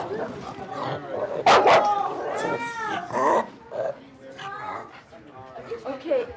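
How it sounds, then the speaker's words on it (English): A therapy dog barks repeatedly in a hospital setting, short yelping barks close by, mixed with people talking. "when the dog barks, reassure him that everything's okay"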